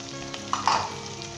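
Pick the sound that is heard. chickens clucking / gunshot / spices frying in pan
spices frying in pan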